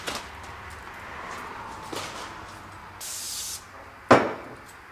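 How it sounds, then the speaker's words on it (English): Brake cleaner sprays in one short hissing burst onto the engine block of a Jeep 4.6 stroker during a cylinder head install, with a few sharp metallic taps and clinks before and after it in a quiet shop. "wipe down the block surface with a little brake cleaner to make sure there's no lube on here"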